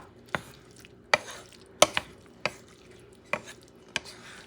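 Wild boar meat is stirred in a pan, the spatula striking the metal in about seven sharp, irregular clacks close up over a faint background sizzle.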